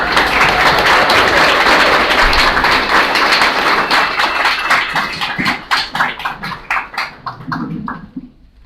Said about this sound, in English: Can y'all give a round of applause for Kyle Kessler?